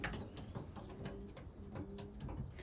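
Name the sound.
young pigeons cooing in a loft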